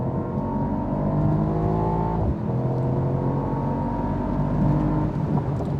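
A Mercedes-AMG SL55 accelerates at full throttle on the Autobahn, its engine droning and rising steadily in pitch, with one brief dip at a gear change before climbing again. Heard from inside the car under road and wind noise.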